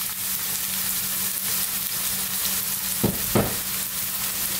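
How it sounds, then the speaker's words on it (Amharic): Onions frying in hot oil in a pan on a gas stove, a steady broadband sizzle throughout with a couple of brief louder crackles or stirring scrapes near the end, no talk. "ከዛ ሽንኩርታችንን እንጠብሳለን።"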